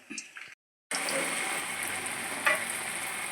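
Sliced ripe plantain drops into hot oil. After a brief silent pause, a steady, close sizzling hiss of frying starts and holds, with a small spurt midway.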